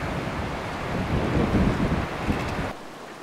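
Strong wind buffets the microphone at a beach near Freycinet, a steady loud roar that swells in the middle and drops off abruptly near the end, with no voices.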